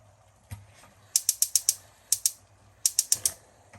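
A stove is lit while beef curry with shatkora is being cooked, producing crisp, close mechanical clicks in quick bursts of four or five with short pauses between, like a gas igniter being worked.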